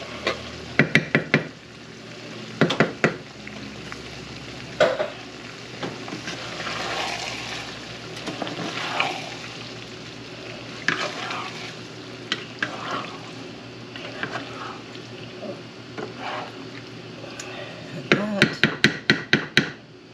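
Tomato sauce with meatballs simmers in a pan as a low, steady bubbling hiss, broken by occasional sharp taps and clusters of clinks from a utensil against the pan.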